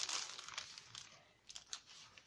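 Aged paper being handled and crinkled, a run of soft dry rustles and a few sharper crackles close by, quiet and without voices.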